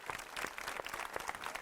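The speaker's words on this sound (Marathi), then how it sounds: "टाळ्या वाजवून शुभेच्छा देऊया" Studio audience applauding on a Marathi TV game show, a brief burst of steady, dense clapping at moderate level.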